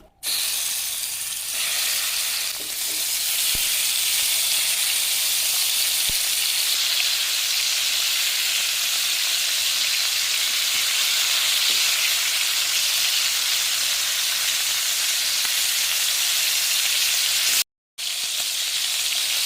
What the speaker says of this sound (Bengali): তেল গরম হয়ে গেছে, এখন মাংসের টুকরোগুলোকে দিয়ে দেব ভেজে নেওয়ার জন্য।